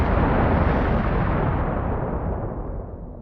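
An explosion shockwave effect, a loud, dense, rumbling blast that fills the whole clip and slowly fades as its hiss dulls, with no voices.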